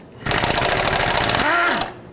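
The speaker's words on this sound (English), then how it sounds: "I'm gonna take out the 9 bolts that hold it on" Tool work on a 10 mm intake manifold bolt of a 5.4L Ford F-150 engine, likely a power ratchet or impact, gives a loud, close, continuous buzzing burst of about one and a half seconds, then stops.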